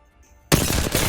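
Rapid automatic fire from an R301 rifle in a first-person shooter game, bursting in loudly after half a second of near silence and continuing as a dense, steady stream of shots to the end.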